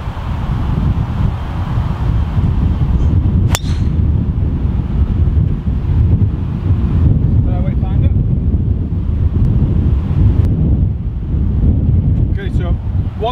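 Strong wind on an open golf course buffets the microphone in a constant low roar, with a few brief clicks and faint higher noises breaking through near the middle and end.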